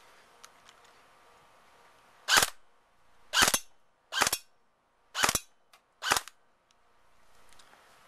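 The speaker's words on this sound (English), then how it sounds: "Here's 5 rounds on semi." Five sharp, close semi-automatic shots from a G&G GR-15 Raider-L airsoft gun, evenly spaced about a second apart, each a crisp snap with a short decay, over quiet outdoor background.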